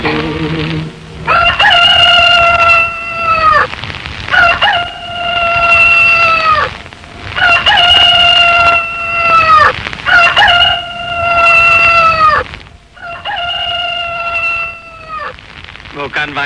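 Rooster crows loudly and close, several long harmonic calls repeating about every two seconds, with chicken clucking between them and a voice chanting underneath.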